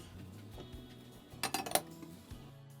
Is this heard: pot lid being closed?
yes